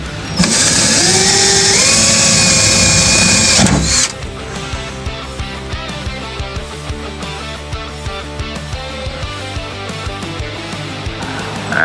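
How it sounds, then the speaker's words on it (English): A power drill whines loudly, its pitch rising as it spins up while drilling through the side of a box, then cuts off, followed by softer clattering handling noises. "Just gotta drill a hole through the side of the box."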